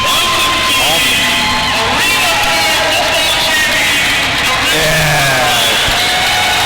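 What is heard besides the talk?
crowd applause for the Richmond RoughRiders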